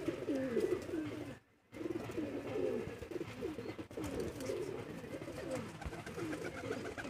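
Pigeons coo repeatedly in soft, rolling phrases, several birds close together, with a brief dropout partway through and steady background murmur.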